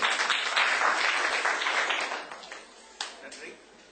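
An audience claps to welcome a speaker at a talk on the media: a dense burst of applause that gradually thins and fades, with a brief swell near the end and some voices mixed in.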